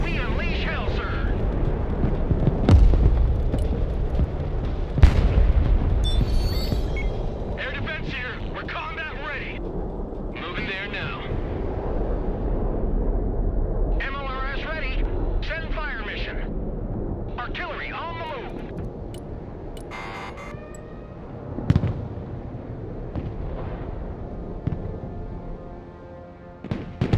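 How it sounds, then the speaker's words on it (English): A rocket artillery barrage firing in a video game, sharp launch blasts and rumbling explosions rolling under frequent voices talking, with later thuds dying away. "MLR is ready to fire."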